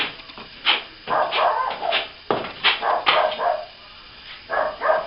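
A dog barks repeatedly in uneven bursts with short pauses, fairly close and loud, at a work site where plasterboard and cove cornice are being repaired; no talk is heard during the barking.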